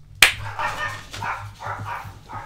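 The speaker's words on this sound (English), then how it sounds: "My dog just started barking." A dog barks several times in a quick series of sharp, close, fairly loud woofs after a sudden onset.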